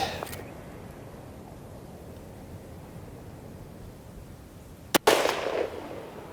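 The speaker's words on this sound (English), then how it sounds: "I'm shooting the Bond Strike Norma 300 Win Mag, 97 on the nose. Close enough. Just gonna check the zero real quick." A single sharp, loud rifle shot from a Norma 300 Win Mag, fired while checking zero on a backcountry British Columbia moose hunt, breaks a quiet outdoor hush near the end and is followed by a brief echoing tail.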